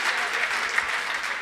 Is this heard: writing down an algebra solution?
no